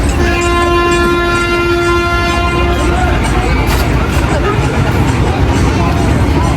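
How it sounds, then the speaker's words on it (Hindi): Thal Express passenger train hauled by an HBU 20 diesel locomotive pulling out of Rawalpindi railway station, with a long sustained horn tone over rumbling wheels and engine noise, crowd babble throughout on a busy platform. "थल express, finally leaving Rawalpindi railway station with HBU 20।"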